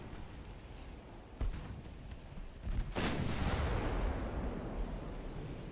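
Four-inch secondary naval guns fire in the warship game Ultimate Admiral Dreadnoughts, a sharp blast at about one and a half seconds, then a heavier boom near three seconds that rolls into a sustained rumble of gunfire and explosions.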